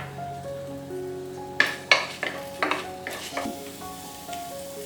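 Minced garlic sizzles and fries in a used pan while a utensil stirs it, giving a steady hiss over background tones and a run of sharp scraping clicks near the middle.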